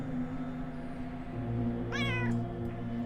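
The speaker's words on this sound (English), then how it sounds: "the kitty is talking this whole time" A cat meows in the video game UnderRail, one clear drawn-out call rising over a steady low game soundtrack and ambient hum.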